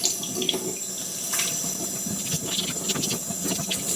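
Tap water running steadily over plant roots to soften them, a continuous close splashing hiss with no talk.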